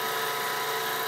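A sewing machine motor spins steadily while winding a bobbin, giving a continuous high whirring drone that holds at a constant level throughout, close and fairly loud, with no voices.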